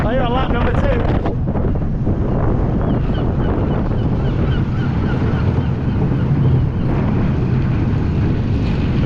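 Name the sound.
wind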